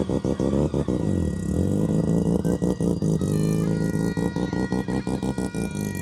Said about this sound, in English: you can hear behind me the sound of another rotor